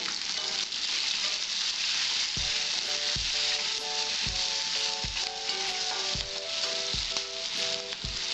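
Raw mango pieces fry with green chili and turmeric for a Bengali mourala fish sour dish, giving a loud, steady hot-oil sizzle with a few soft thuds of stirring.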